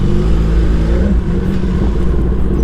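A car engine at a drag race event in Ambey Valley, running loud and close with a steady, rumbling low drone and slight revving throughout, no talk over it.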